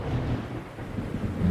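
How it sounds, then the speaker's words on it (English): A storm sound effect for a stage play set at sea: a steady, low roar of wind and rumbling thunder, with a surf-like wash underneath, constant and moderately loud throughout. "Storm sounds."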